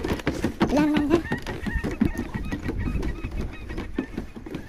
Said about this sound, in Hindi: कुकरा मुर्गी किधर से आ रहा है मुर्गी आ रहा है